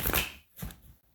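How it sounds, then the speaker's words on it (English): Tarot cards being shuffled by hand in a few quick riffling bursts, close and fairly quiet, with brief pauses between them. "one more shuffle for my Pisces."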